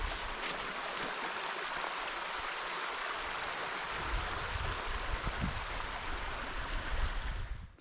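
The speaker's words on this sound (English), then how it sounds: "That's the Lerderderg River" The Lerderderg River, recently scoured by floods, flows in rough bush country, a steady broadband rush of water that stays close and even throughout, slightly swelling toward the end, with no voices.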